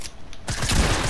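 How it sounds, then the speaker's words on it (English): Gunfire in Fortnite breaks out partway through, a loud, rapid burst of shots that carries on to the end after a quieter opening. "Someone just shot us."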